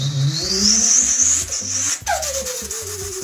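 A voice imitates a Formula One car with a piercing, high-pitched whine that rises and holds over a lower buzz, then drops sharply in pitch like a car passing by.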